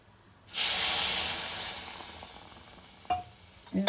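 Milk poured into a hot pan for a sweet offering dish, bursting into a loud sizzling hiss that slowly fades, followed by a couple of brief scraping stirs near the end.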